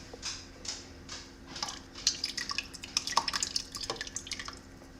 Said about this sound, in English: I'm going to go ahead and add a pint jar of fresh salsa.